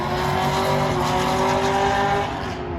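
Modified C6 Corvette with upgraded cam, headers and intake accelerating down a quarter-mile drag strip, a loud continuous engine roar with steady harmonic tone that fades slightly at the end.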